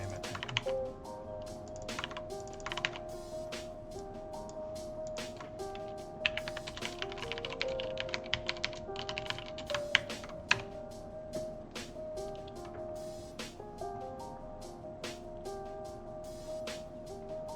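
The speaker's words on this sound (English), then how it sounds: "Look at how bad I am at typing." Rapid, uneven typing on a computer keyboard during a game development session, a dense stream of light clicks and taps over a steady background hum, fairly close.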